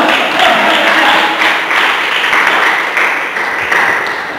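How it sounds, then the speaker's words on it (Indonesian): A church congregation at a Sunday service claps together, a loud, continuous wash of hand claps with gentle rises and falls in intensity, no talking over it. "Beri tepuk tangan Tuhan."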